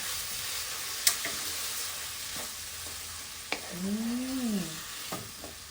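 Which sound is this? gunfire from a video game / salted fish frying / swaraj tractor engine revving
salted fish frying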